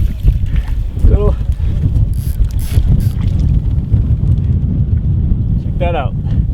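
Strong wind buffets the microphone while float fishing from a small boat on open water, a steady low roar running throughout with a few faint creaks and bird-like chirps.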